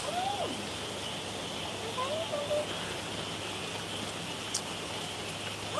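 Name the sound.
rain falling on the roof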